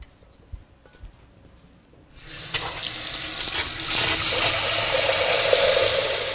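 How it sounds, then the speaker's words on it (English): Tap water runs into a pan for poaching an egg, starting abruptly after a couple of seconds of quiet and then gushing steadily and close, with the tone deepening slightly as the pan fills. "I'm going to fill my pan with water for my poached egg"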